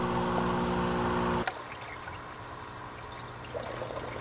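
A backyard aquaponics fish tank trickles and bubbles from air stones fed by an aquarium air pump, with a soft steady hum that cuts off midway and leaves faint water burbling.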